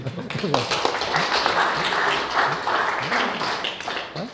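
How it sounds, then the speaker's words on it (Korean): An audience at a lecture on the Analects claps together in agreement, a brief scattered round of hands mixed with murmuring voices and talk throughout. "동의하시면 박수 한번 해주세요"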